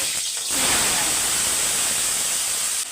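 Onions sauté in hot oil in a home kitchen pan, a loud continuous hiss and sizzle that holds steady for several seconds after a brief quieter start.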